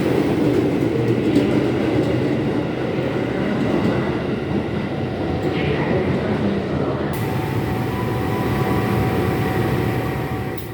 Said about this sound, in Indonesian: Ini ada KRL komuter lain, tapi ini jurusan kemana ya?